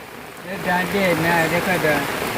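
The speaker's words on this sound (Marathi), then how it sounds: "आणि हा पाऊस पडतोय" Steady monsoon rain patters on a surface in a Lanja village while someone speaks close by, the hiss continuing under the voice.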